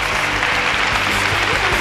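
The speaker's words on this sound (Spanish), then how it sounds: "Un aplauso." A festival crowd at a town fair proclamation event in Úbeda gives steady, loud applause. The clapping stays even and continuous throughout.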